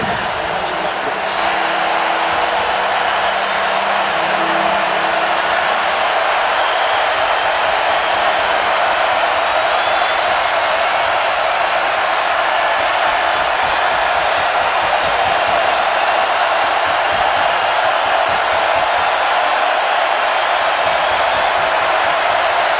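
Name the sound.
football stadium crowd cheering, Clemson at North Carolina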